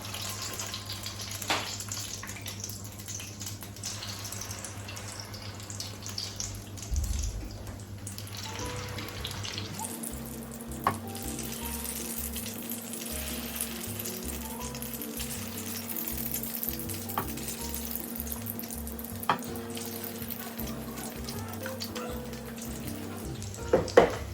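Akara bean cakes deep frying in hot oil, a steady close sizzle and bubbling with a few faint pops and utensil taps, no voices.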